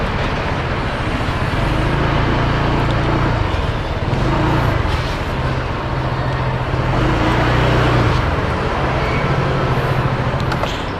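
A steady, loud roar of motorcycle engines and road traffic as motorcycles arrive at a Honda dealership fills the whole stretch without a break, close by, with no clear voices.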